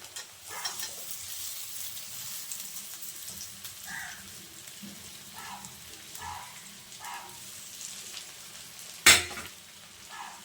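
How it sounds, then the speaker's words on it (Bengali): Pointed gourd and potato frying in mustard-poppy spice paste in a pan, with a soft continuous sizzle, occasional faint stirring scrapes and one sharp clatter near the end. "মশলাটা কিছুক্ষণ কষানোর পর পটলটা দিয়ে দিচ্ছি"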